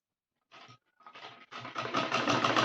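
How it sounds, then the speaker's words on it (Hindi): A sewing machine runs along the panels of a Rajputi lehenga, giving two short hesitant bursts before building into a continuous, close mechanical whir. "इस तरीके से हम कली पर सिलाई लगा लेंगे।"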